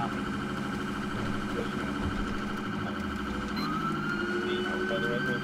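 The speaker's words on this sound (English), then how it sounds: "Got some dual siren action going here," Two police sirens in a video game, Grand Theft Auto V, wail and yelp together over a steady engine hum, continuous and fairly loud.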